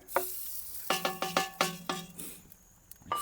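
Onions and tomato paste are stirred in a frying pan, giving a run of six or seven close, scraping strokes over a soft sizzle, then a quieter stretch with a few faint clinks.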